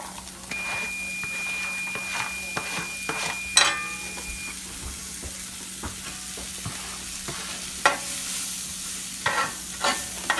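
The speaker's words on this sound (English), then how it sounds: "Then I'm gonna fry these onions down and this garlic." Onions and garlic frying in butter, with a steady close sizzle and a spoon stirring and scraping against the pan throughout, plus a few sharper clinks.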